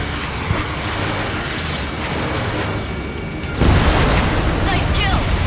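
In the Ace Combat 7 flight game, a missile fires with a rushing whoosh, followed a few seconds later by a loud, sudden explosion burst over a steady jet-engine roar.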